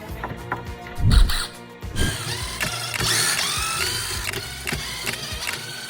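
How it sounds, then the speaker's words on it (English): A 7mm wrench loosens screws on a JL Audio Fathom subwoofer, giving close, loud ratcheting clicks and metallic mechanical clatter in quick irregular bursts, with a few knocks and handling noises. "First thing is, we gotta take these out. So it's a 7mm wrench."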